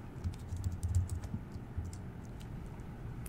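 Quick, faint clicks of typing on a computer keyboard, a burst of close keystrokes followed by sparser taps, alone in a quiet room.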